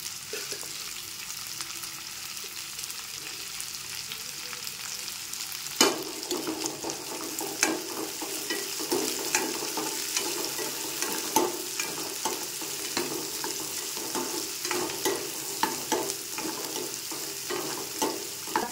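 Sliced onions and green chillies fry in a pan with a steady close sizzle, and from partway through a utensil stirs and scrapes in irregular knocks over the hiss.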